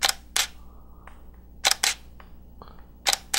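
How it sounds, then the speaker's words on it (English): Sharp shutter clicks from a Canon Rebel EOS T4i DSLR come in quick pairs, three sets spaced a second or so apart, crisp and close with quiet between. "Let's listen to the shutter, see how well it works."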